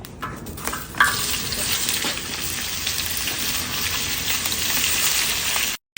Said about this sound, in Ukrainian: зараз буду підсмажувати картоплю